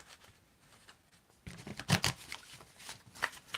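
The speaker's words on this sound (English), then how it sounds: "I'm going to just shuffle a few times. Riffle shuffle 3-4 times" A deck of tarot cards is riffle shuffled up close after a quiet start, a burst of rapid flapping card riffles followed by a second shorter riffle near the end, with no talking.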